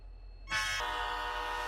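After a quiet lead-in, a Roblox RO-Scale Sandbox train, an Amtrak Superliner, sounds a sustained horn that begins abruptly and holds a steady chordal tone for over a second, shifting pitch briefly early on.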